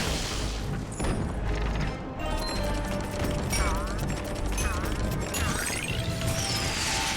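Cannon firing in the Skylanders Giants video game aboard an airship under aerial attack: loud booms and crashing impacts over clanking machinery, with whooshing sweeps and game music layered throughout.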